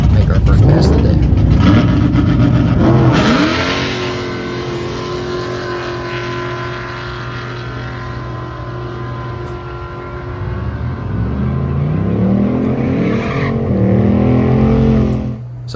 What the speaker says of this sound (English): So the car spun on the launch,